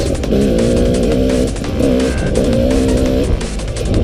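An enduro motorbike revs hard as its wheels slide through mud, its loud engine note rising and falling in a wavering whine that runs steadily through the whole stretch.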